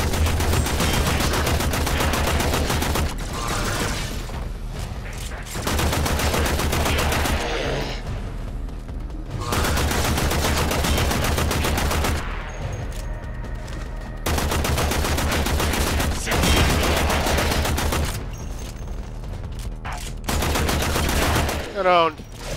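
Gunfire in Warframe on Xbox One during a primary weapon proficiency test: loud, sustained automatic bursts of several seconds each, broken by short gaps, with a voice briefly audible between them.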